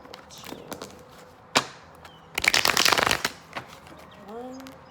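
Tarot cards from a Rider-Waite deck are shuffled in quick riffles, with a sharp slap and a dense burst of flicking, then a short faint voice-like tone near the end.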